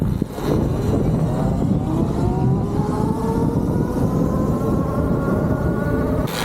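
A Talaria electric dirt bike accelerates hard from a standstill to 60, its motor whine rising steadily in pitch over several seconds beneath loud wind rush.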